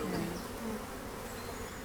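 A swarm of honeybees hanging near a pond hums in a dense, continuous drone, close and steady for the whole stretch with no voices.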